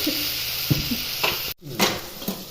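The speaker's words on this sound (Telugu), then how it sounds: "టమాటాలు వేసి ఇట్లా కలుపుకోండి" Tomatoes are stirred into a frying pan for a dried prawn curry, a steady sizzle under scraping stirs that briefly cuts out and then resumes with more stirring strokes.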